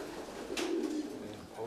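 A low, soft coo from breeding pigeons in a loft rises briefly and fades, quiet against a faint background hum.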